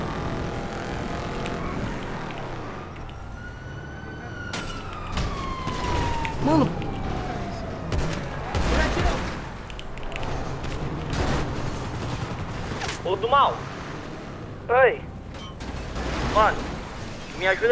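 A wailing police siren rises and falls amid sharp bursts of gunfire and engine noise during a police chase in the video game GTA roleplay, with game sound effects layered throughout and a voice talking now and then.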